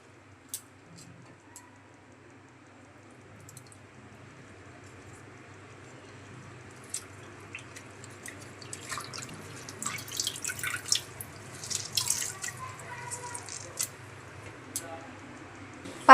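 Water drips and splashes at a sink while pumpkin leaves are washed, soft trickling and scattered close drops that grow busier toward the end, with a voice talking quietly.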